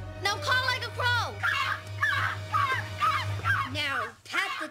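A person imitating a crow call, giving a series of loud, nasal cawing squawks one after another in uneven rhythm, close and alone.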